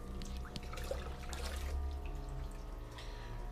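Water poured into pond plant substrate, a steady low trickle and splash running continuously under a faint background hum.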